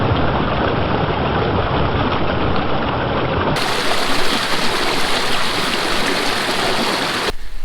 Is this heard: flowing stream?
yes